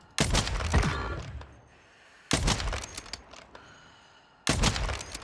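Three loud sniper shots in Warzone, spaced about two seconds apart, each a sharp close crack with a ringing tail that fades before the next shot.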